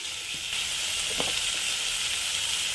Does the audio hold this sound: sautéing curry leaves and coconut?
yes